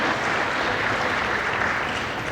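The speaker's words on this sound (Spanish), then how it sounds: "Un aplauso para él." Steady audience applause at a book fair in Buenos Aires, a dense wash of clapping from a sizable crowd at moderate volume, continuing evenly throughout.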